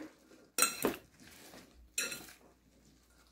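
Avocado chickpea salad with cucumber, spinach, apple and onion is stirred in a bowl with a utensil, giving a few brief clinks and scrapes in separate bursts, fairly quiet and close.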